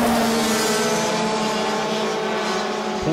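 DD2 racing karts roar past on the Wackersdorf track during a race, a loud, continuous engine drone with overlapping high-revving tones that stays dense throughout.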